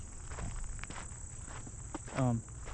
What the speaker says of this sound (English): my footsteps are a bit loud right now